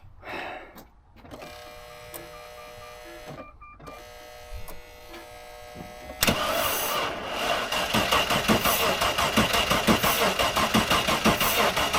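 A Range Rover engine cranks and catches with a booster pack attached, a few short electric whirs and clicks first, then a loud, steady rough idle running close by.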